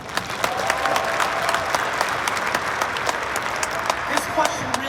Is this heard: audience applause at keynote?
yes